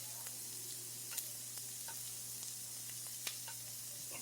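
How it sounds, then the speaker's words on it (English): Onions sizzle quietly in a frying pan, a soft steady crackle with faint clicks and stirring scrapes and no voices. "them onions are sizzling"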